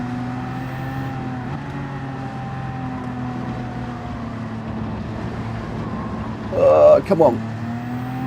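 BMW race car engine in Gran Turismo 7 humming steadily at a constant pitch under a voice, with a brief sharp burst of sound near the end.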